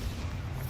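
The Incendio fire spell is cast in Hogwarts Legacy, a brief, heavy low whooshing rumble of flame that stays steady and loud through a short burst.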